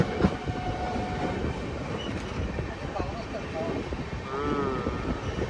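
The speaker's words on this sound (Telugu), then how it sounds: "ఇప్పుడే మన ట్రైన్ తాడేపల్లి గురించి చేరుకుంటుంది" A train rumbles steadily with clattering wheels and a faint squeal of brakes as it arrives at Tadepalli station, close and continuous, with some voices in the background.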